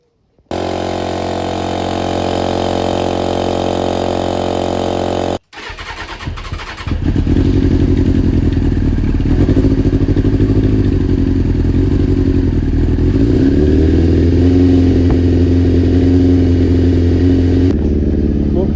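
A Kawasaki ZX6R motorcycle engine sits idling and warming up, first a steady loud drone that cuts out, then a restart with clattering catch and a rougher, lower idle that settles and runs continuously.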